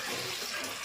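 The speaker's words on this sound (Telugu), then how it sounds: "నీళ్ళు" Water runs in a steady, rushing stream from a kitchen tap in a home where idli and dosa are being prepared. The flow is brief and continuous, close by, with no voices.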